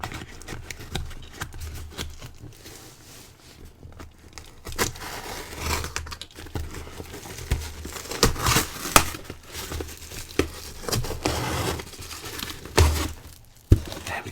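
A knife slicing open a cardboard package box at close range, with crinkling, tearing and scraping of card and packing material in irregular bursts and a sharp thud near the end.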